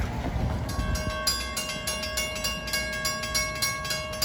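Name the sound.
equipment train passing a level crossing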